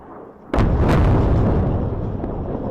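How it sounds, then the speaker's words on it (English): An airstrike explosion in Beirut lands as a sudden heavy boom, followed by a long, loud rumbling roar that keeps going without fading out. "That's an airstrike in Beirut"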